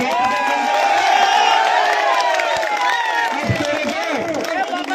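A large crowd cheers and shouts continuously at an outdoor political election rally held in a goat market in Nawalgarh, a dense roar of voices with whoops rising over it, loud and steady throughout.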